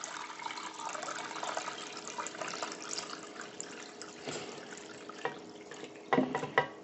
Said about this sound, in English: And we add 3 quarts of water to this.